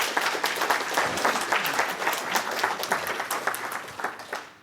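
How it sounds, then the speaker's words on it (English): An audience at a programming language conference claps after a talk, a steady wash of many hands with distinct sharp claps standing out, moderately loud and continuous. "Well, applause first, I'm sure."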